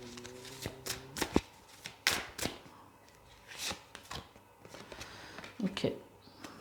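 Tarot cards shuffled and laid down in a card reading, with riffling, flicking and soft slaps of cards placed on a surface, close up, several short bursts spread across a few seconds amid quiet handling.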